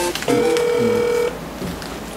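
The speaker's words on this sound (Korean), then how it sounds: "중학교 때부터 알던 친구인 최지아 양한테 전화하도록 하겠습니다" A phone call goes out to a friend: a single steady electronic ringback tone sounds for about a second, then the line falls quiet, heard close with no talking.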